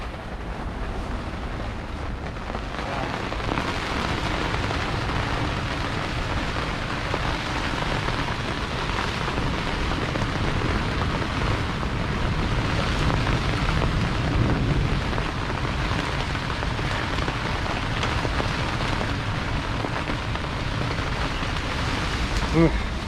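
Steady heavy rain drumming on a boat close by, constant and loud throughout with no pauses.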